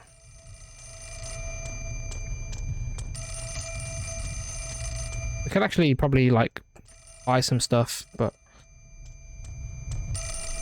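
An in-game telephone in Fatal Frame 4 rings in steady repeated bursts through most of the stretch, loud and electronic, while a person talks over it in the middle.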